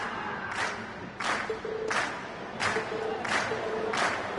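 In the Trails of Cold Steel video game, a crowd cheers and claps after a class performance on stage. The sound is a steady, full wash of applause with rhythmic swells of cheering, heard alone at a moderate distance.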